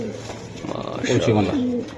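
Pigeons coo repeatedly at a market selling racer and Budapest pigeons, the soft rolling calls fairly close and steady, with voices murmuring in the background.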